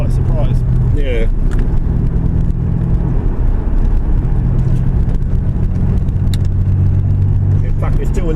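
A Toyota Supra MK4 engine, a 2JZ or 1JZ, runs with a steady low rumble and faint rises in revs, set in snowy conditions with people talking over it.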